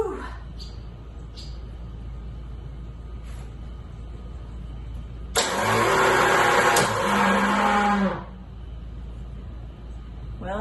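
A Miller Bobcat 225G welder/generator engine cranks and briefly catches, a loud rough burst of roughly three seconds that rises and then dies away, with quiet mechanical ticking before and after.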